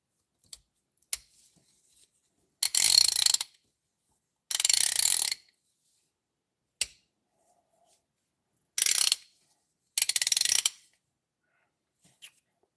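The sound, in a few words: old Snap-on ratchet clicking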